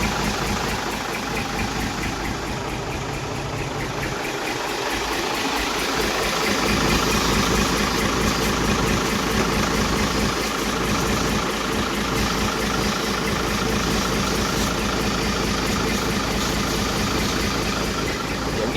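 A Hino truck diesel engine idles close by with a steady, smooth, even rumble and a faint clattering texture, running unbroken throughout.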